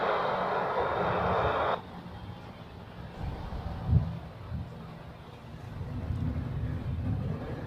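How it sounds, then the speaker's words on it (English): An Airbus A321neo departs Zurich Airport with a broad, rumbling jet roar. A burst of wind-like rush at the start gives way to a lower, distant engine drone that swells and fades unevenly. "Here we have an A321neo going to Valencia."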